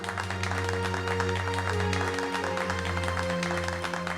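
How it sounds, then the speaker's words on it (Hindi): Applause from an audience over loud background music, a steady wash of clapping that carries on throughout. "कीजिए जोरदार तालियों से इनका स्वागत"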